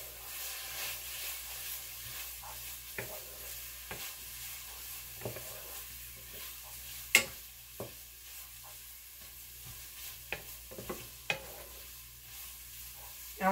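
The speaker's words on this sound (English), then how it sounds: "And just a pinch of red pepper flakes. Stir this up for a few seconds." Red pepper flakes are stirred in a sizzling pan, a soft steady fry with scattered scraping clicks from the stirring, faint and close.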